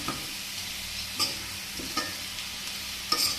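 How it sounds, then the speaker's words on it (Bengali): Potatoes and vegetables sizzle in a pan with an even background hiss, while a few sharp scraping clinks of a spatula stirring them stand out at intervals. "আলুটা আর গাঁটি আমার কিন্তু খুব ভালোভাবে ভাজা হয়ে গিয়েছে"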